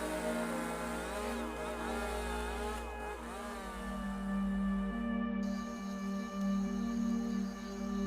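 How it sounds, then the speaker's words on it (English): Chainsaws drone in a forest valley in the Amazon, a steady loud engine whine that rises and falls in pitch as it revs, continuous and close throughout. "The sound of chainsaws still rises coldly from valleys that should hold nothing but bird song and the wind."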